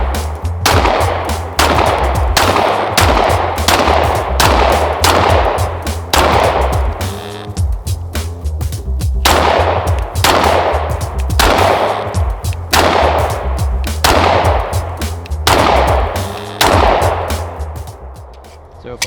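Repeated pistol shots from a Lone Wolf Dusk 19R on a shooting range, about a dozen loud, sharp reports in an uneven string with short gaps, close to the listener and with no talking.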